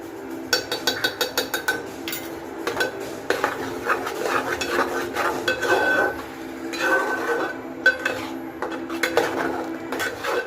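Masala paste being stirred into paneer tikka in a pan: repeated clinks and scrapes of a metal spoon against the pan in an uneven rhythm, close and moderately loud, with a faint sizzle underneath.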